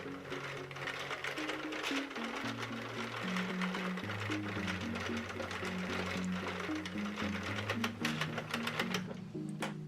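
A SENTRO circular knitting machine, cranked by hand while knitting a hat, gives a steady mechanical clatter with rapid ticking, quiet and continuous throughout.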